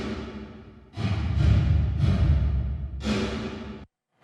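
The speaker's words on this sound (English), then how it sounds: "The bulk of the work here in this particular section is being done by the AMS drum reverb, which sounds like this." A drum mix fed through an AMS RMX 16-style drum reverb: a few heavy, booming hits each trailed by a dense washy tail, ending in an abrupt cut to silence, with no voices.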